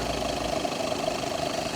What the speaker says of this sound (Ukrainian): Зараз покажу роботу двигуна, демпфер, маховик нічого не підстукує. Двигун працює ідеально, рівно.